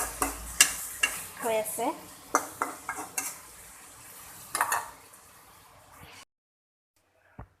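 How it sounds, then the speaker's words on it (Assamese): Chicken frying in a hot kadai, with loud clanks and scrapes of a spoon stirring against the metal over a soft sizzle; a brief voice speaks, and then the sound cuts to near silence. "এয়া মই এতিয়া বনাম চিকেনটো।"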